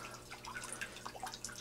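Low-flow water trickles and drips into a hydroponic RDWC bucket, a faint, steady patter of small drops over a low background hum.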